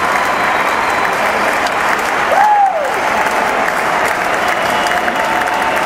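A baseball stadium crowd roars and claps steadily as fans rise to their feet for a Venezuelan batter's first at-bat, with a sustained loud wash of cheering and a brief whistle partway through.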